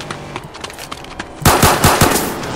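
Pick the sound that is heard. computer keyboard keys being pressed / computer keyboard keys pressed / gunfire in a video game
gunfire in a video game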